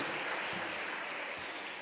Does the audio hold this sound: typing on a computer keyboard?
no